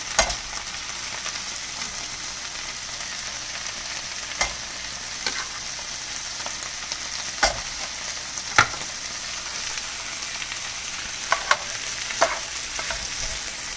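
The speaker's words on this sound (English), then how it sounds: "Let that saute for a little bit. You don't want to burn the garlic or the ginger." Garlic and ginger sautéing in a pan, a steady close sizzle and hiss of frying oil throughout, broken by occasional sharp clicks and scrapes of stirring, with no talk.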